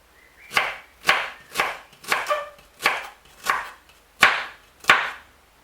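Cabbage being chopped with a knife on a board, eight crisp evenly spaced chops at a steady rhythm, close and clear with no talking.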